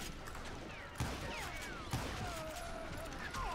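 Bursts of gunfire from the video game Call of Juarez: Gunslinger, with sharp shots around one and two seconds over a busy, noisy game backdrop.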